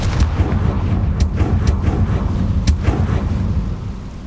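A Confringo fire spell bursts in Hogwarts Legacy, a loud, rumbling explosive roar with a few sharp cracks layered through it over about four seconds, fading slightly at the end.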